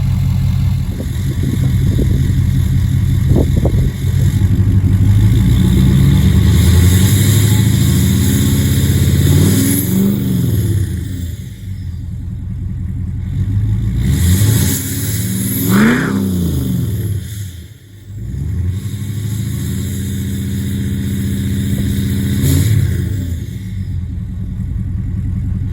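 A 2019 Ford F250 with the 6.7 Powerstroke diesel and a 4-inch exhaust with a 5-inch tip, idling with a deep rumble and then revved several times in rising and falling surges, loud and close with no talking.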